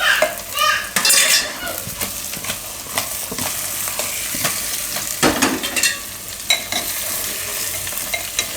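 Chunks of eggplant and yam are turned in hot oil in a pot, with loud clattering stirs and utensil scrapes over a constant sizzle, the knocks coming irregularly one after another throughout.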